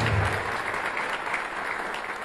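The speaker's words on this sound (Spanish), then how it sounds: "les demos el aplauso a ellos" Steady, dense applause from participants at a public audit meeting about a marketplace, a continuous bright patter of many hands clapping at even loudness with no voices on top.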